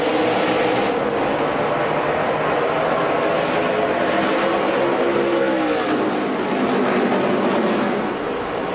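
NASCAR Truck Series trucks roar away at the green-flag start of the Bully Hill Vineyards 200 at Nashville in 2011, a dense, continuous, loud engine roar with rising and falling pitch as the field passes.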